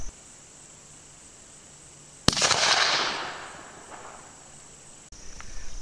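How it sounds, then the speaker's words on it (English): A single sharp .44 Magnum shot with a 200-grain load cracks loudly at close range during a ladder test, then its boom rolls and fades over a couple of seconds, followed by a brief click. "Shot let loose"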